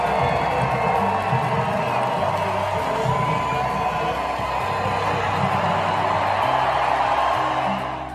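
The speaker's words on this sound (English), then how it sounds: "The clapping is tremendous, a collective display of thanks" A stadium crowd at an Iowa celebration honoring Caitlin Clark claps and cheers steadily, a dense wash of applause with whoops and shouts that holds at full strength and eases slightly near the end.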